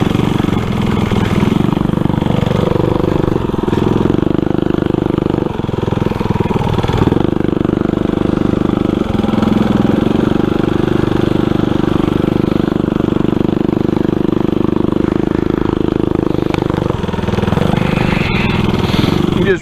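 Go-kart engine, a roughly 6-horsepower small motor with a new max-torque clutch and chain, roaring loud and steady at close range, with slight surges in revs throughout.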